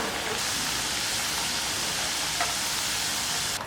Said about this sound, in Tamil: இது போலே நம்ம முறுக்கு செஞ்சு நம்ம எண்ணெயில் சுட்டு எடுக்கலாம் வாங்க